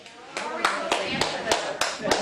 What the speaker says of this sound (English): Clap your hands if you guys like pedophiles